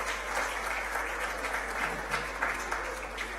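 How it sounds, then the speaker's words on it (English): A school audience at the opening of a smart centre at a primary school applauds with a steady wash of clapping that stays even and moderately close throughout, with faint voices mixed in. "I think they deserve a much bigger round of applause than that."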